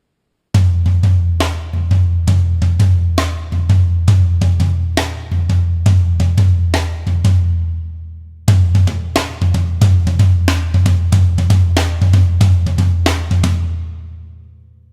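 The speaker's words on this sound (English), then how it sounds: "I trade off between the floor tom and this secondary snare drum" A drum pattern alternates hits between a deep floor tom and a secondary snare, steady and driving with a short break midway, loud and close.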